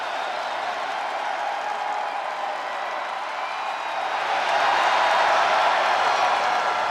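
In WWE 2K25, an arena crowd roars continuously in a dense, even wash of noise that swells louder about two-thirds of the way through.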